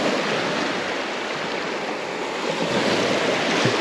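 Moderately strong waves roll across a lagoon on a windless day while the water level drops, making a steady, close wash of rushing, splashing water.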